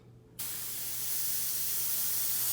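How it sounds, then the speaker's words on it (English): Aerosol spray can releasing grease between rails, a sudden steady hiss that starts after a short quiet pause and holds evenly to the end. "I'm gonna spray a little grease here between the rails."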